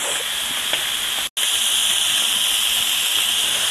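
Scallops searing in butter in a hot pan give off a loud, steady, close sizzle and hiss that cuts out for a brief moment, then resumes.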